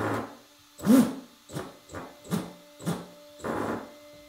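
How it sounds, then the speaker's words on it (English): Linear actuator motor driven through RC controls with a LAC board and ESC, a series of short whirring motor bursts, about six in irregular succession, close and moderately loud with quiet gaps between them and no talking. "now let's give it a test. Let's test the motor."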